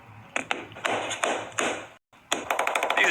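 Repeated light taps on the cracked back glass of an iPhone 11 during a repair, a steady series of sharp, close ticks with a brief pause before a quicker run of taps.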